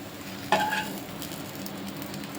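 Green gram and peanut dosa sizzles on a hot pan, a steady frying hiss with a sharper clink or scrape near the start, alone and fairly quiet.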